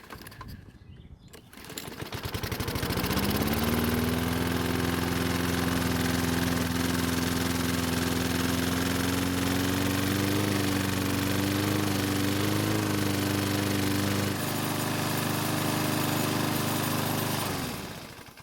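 A Toro lawn mower with an oil leak is pull-started, its small engine catching after a brief rope rattle and then running steadily and loudly for about fifteen seconds before the throttle drops slightly near the end.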